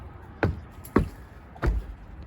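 Door being opened into a basement, three sharp knocks and clunks of the latch and door spaced about half a second apart, close and fairly loud, with quiet between them.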